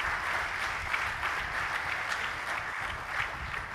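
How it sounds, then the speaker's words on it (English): Applause from the audience at an international conference session, a soft, even wash of clapping heard from a distance and continuing without a break. "Can we have a big round of applause for inspiration?"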